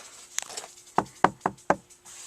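Several dull, solid knocks on a car panel treated with sound deadener, a few quick taps then four firm knocks in an uneven rhythm, close and fairly quiet.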